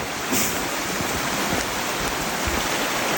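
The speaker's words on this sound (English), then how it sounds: "Must be water coming down off the mountain." Mountain stream rushing down beside a Camino Francés trail between Trabadelo and O'Cebreiro after heavy rain, a dense continuous hiss of running water close by, steady and unbroken.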